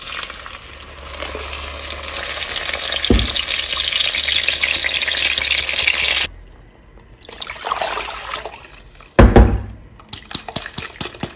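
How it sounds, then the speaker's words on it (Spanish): Blended sauce poured into a pot with a little hot oil, a loud steady hiss and sizzle that cuts off, then a splash and clatter as it is stirred, with quieter bubbling afterward. "Lo vamos a agregar en una cacerola con un poquito de aceite."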